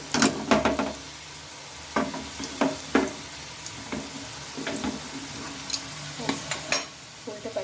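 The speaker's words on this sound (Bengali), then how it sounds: "এগুলোকে এখন আমি লাল লাল করে একটু ভেজে নেব" Snacks deep-fry in bubbling oil, with a steady crackling sizzle broken by sharp pops and scraping clatters of a utensil turning them in the pan.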